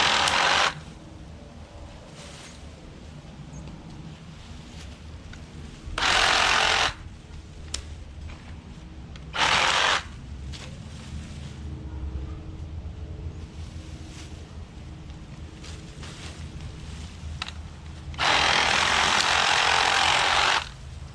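Snapfresh 20V cordless reciprocating saw running in several short loud bursts, separated by quieter stretches of background noise, with the final burst the longest.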